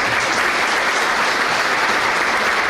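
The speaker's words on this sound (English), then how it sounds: "Please give them a round of applause." Banquet audience applauding the event's sponsors at a chamber of commerce dinner, a loud, dense and unbroken roar of many hands clapping throughout.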